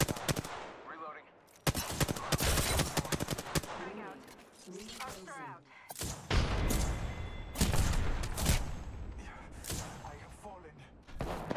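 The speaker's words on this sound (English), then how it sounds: "Shots fired and they're hitting me." Rapid automatic weapon fire in the battle royale video game Apex Legends, bursts of sharp shots and impacts crowding together in quick succession, loud and dense, with a short spoken game line between them.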